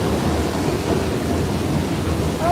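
Heavy rain pours down in a steady, dense hiss with no break, loud and close, with no voices over it.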